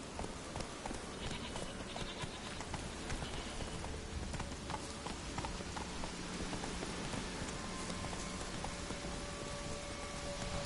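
Roach, a horse in The Witcher 3, gallops through steady rain, with soft rhythmic hoof clops under a dense, even hiss of falling rain throughout.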